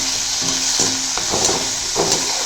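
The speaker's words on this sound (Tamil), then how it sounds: "சேர்த்து நல்லா வதக்கிக்கலாம்." Tomato and onion sautéing with drumstick leaves in a pan, giving a steady close sizzle with a few soft stirring scrapes.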